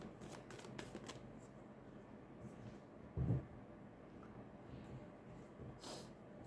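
Tarot cards being shuffled by hand: a steady soft riffling rustle with a brief louder thump of the deck midway, close and fairly quiet, with no one talking.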